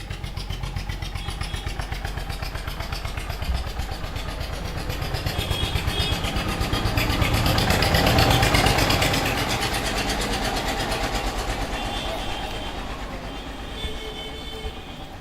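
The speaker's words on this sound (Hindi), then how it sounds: "अहाँ के भाई के बाइक चलल" A motorcycle engine runs steadily with a low, throbbing idle, loud and close, swelling slightly in the middle before settling again, with no talk over it.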